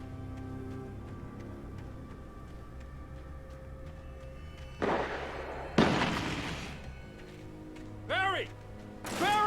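Gunfire in Alan Wake Remastered: a few sharp, loud bursts spaced apart over a quiet ambient game bed, with the later ones ringing with a whistling tail.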